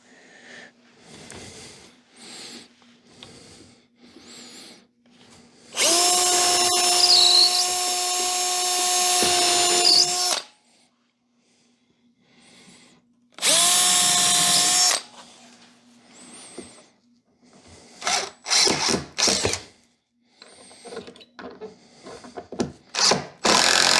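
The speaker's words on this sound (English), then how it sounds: "And these I'll pre-drill." A power drill whirs in two bursts while pre-drilling holes in wood, a long one and then a shorter one, with scattered knocks and handling noises between and after.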